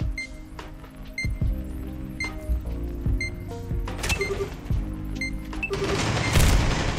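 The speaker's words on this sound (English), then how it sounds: "Flashbang out." A flashbang grenade goes off in the tactical shooter Spectre Divide, a booming burst that trails into a loud hissing wash near the end, layered over steady game music and scattered metallic clinks and shots.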